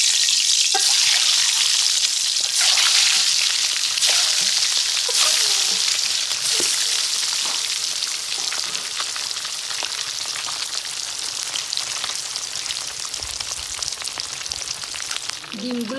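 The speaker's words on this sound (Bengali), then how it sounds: "কড়াইতে তেল দিয়ে দিলাম, হলুদ লবণ মেখে নিলাম ডিমের মধ্যে। এখন ভাজতে দিয়ে দিচ্ছি।" Eggs mixed with turmeric and salt fry in hot oil in a wok, a loud, dense, continuous sizzle with crackling pops and occasional utensil clinks, no voice present.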